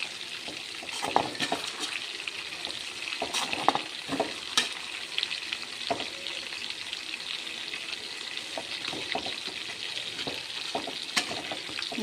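Fish frying in oil in a white pot, a steady close sizzle with scattered sharp pops and light scrapes of a utensil turning the pieces.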